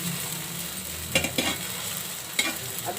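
Flatbread frying in oil on a pan for a homemade Indian breakfast, a steady soft sizzle with a few sharp scraping clicks as it is turned over.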